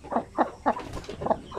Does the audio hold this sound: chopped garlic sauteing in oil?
no